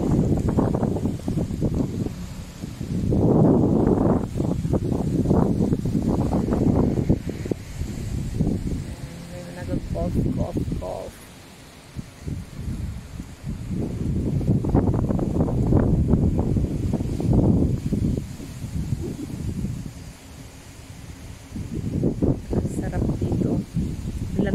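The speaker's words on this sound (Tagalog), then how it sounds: "Ang sarap ng hangin. Ang lamig." Steady wind buffets the microphone outdoors by a lake in Batangas, Philippines, rising and falling in long gusts, with voices talking in the background.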